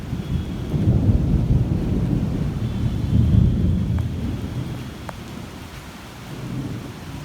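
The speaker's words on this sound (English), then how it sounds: "It started raining." A heavy thunderstorm pours down steady rain while deep rolls of thunder rumble and swell, loud and nearby, with no voices.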